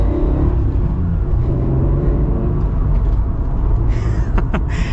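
An original Acura NSX supercar pulls away and drives on, its engine a loud, steady low rumble heard from inside the car throughout, with no voices.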